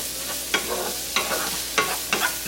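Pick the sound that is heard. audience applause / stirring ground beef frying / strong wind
stirring ground beef frying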